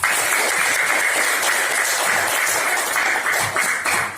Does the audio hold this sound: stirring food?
no